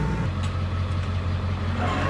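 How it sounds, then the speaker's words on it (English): A big Kubota tractor working in deep mud to pull a stuck truck free, its engine a steady, heavy low rumble that runs loud and close without a break. "So, we got the big Kubota out here. Pulling this out."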